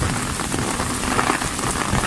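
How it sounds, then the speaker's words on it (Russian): Heavy rain pours down in Bavaria during a summer thunderstorm, a dense, loud, continuous patter of drops striking surfaces close by, with no voices. "Наконец-то дождя дождались хорошего."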